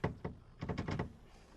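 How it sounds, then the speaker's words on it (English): A locked door in a radio drama being tried, with a few quick rattling knocks of the handle followed by a louder cluster of rapid clunks, close and fairly quiet, with no voices. "That door's locked, too."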